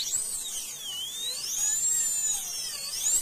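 A high-speed dental burr cuts into a typodont tooth in a lab simulator, a thin, steady whine that rises and falls in pitch as the load changes, close and continuous with no talking.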